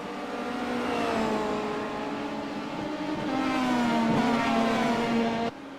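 Formula Renault and Star Mazda race cars on a circuit, a continuous high-revving engine whine with shifting pitch as the cars hold speed, loud and close, without speech.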